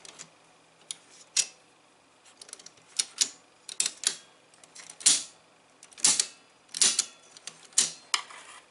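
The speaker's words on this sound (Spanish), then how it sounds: "aquí va conmutando pues las diferentes ondas y bandas" Mechanical clicks from the band-switching keys of a vintage valve radio receiver, a dozen or so sharp, close snaps at irregular intervals, some in quick pairs, over a quiet background.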